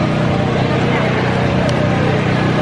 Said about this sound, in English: They're actually like power washing the building up here